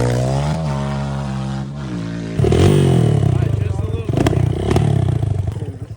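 Dirt bike engine idling, then jumping to a louder, rough revving as a learner lets the clutch out, with uneven throttle surges and people talking over it.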